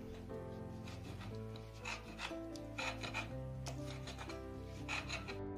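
Roasted tomatoes with garlic being ground on a sil-batta stone, producing steady rasping, rubbing strokes in a repeated rhythm beneath tonal background music.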